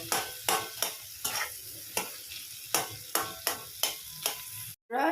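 Food mixed with spices fries in a pan while a utensil scrapes and stirs in regular strokes, roughly two per second, over a continuous sizzle, close and without speech.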